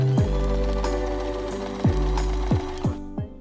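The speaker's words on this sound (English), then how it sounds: "Fold your piece in half like so. And sew on the top." A sewing machine stitching a folded fabric face mask runs with a steady mechanical whir, with several brief pauses and restarts, close and clear with no talking.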